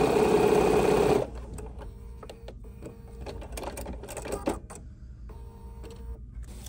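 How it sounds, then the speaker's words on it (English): A sewing machine stitches fabric for a steampunk-style quilted dopp bag: a loud, steady close-up whir for about a second that stops abruptly, followed by faint clicks and handling noises. "now I'm going to be extra creative and sew a long piece against the edge here"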